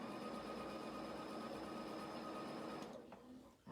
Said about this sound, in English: stitch all the way around that pocket.